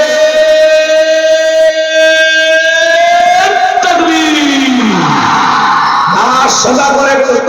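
A crowd at a Bangladeshi Islamic waz sermon answers the takbir call with a loud, sustained chant, voices swelling together and holding long tones before breaking into a rougher roar near the end.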